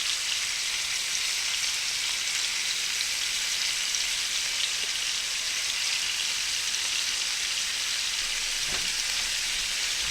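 Chopped onions fry in a tablespoon of butter in a pan, seasoned with salt and pepper, giving a steady soft sizzle like light rain that runs unbroken throughout with no talking.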